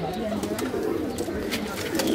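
High-flying pigeons in a rooftop loft coo softly in a steady low murmur, with brief sharper sounds over a continuous background hum.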